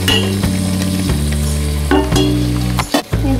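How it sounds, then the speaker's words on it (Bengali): Taro and jackfruit seeds fry loudly with spices in a pan for a fish curry, a strong continuous sizzle cut by repeated scraping stirs from a spatula, up close and without speech. "এরপর আমরা এগুলি মশলাগুলির সাথে মুহি আর কাঁঠাল বিচিগুলি ভালো করে মিশিয়ে নেব।"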